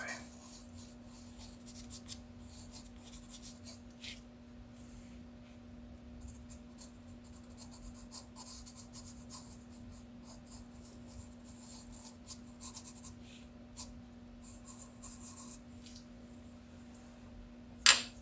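Pencil or charcoal strokes scratch across paper in an art drawing session, soft irregular rubbing and scraping close up, quiet and steady with a low hum beneath and a brief sharper tap at the end.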